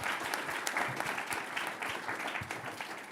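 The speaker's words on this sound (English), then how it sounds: "So a big round of applause, please, for everybody." Loud, dense applause from a conference audience at a China policy event, sustained and even across the whole stretch with no talk over it.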